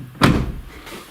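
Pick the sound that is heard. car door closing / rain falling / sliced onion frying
car door closing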